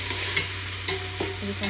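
Tomatoes go into a hot frying pan for a crab curry, sizzling steadily while a utensil stirs and scrapes in several short clinks, close and fairly quiet.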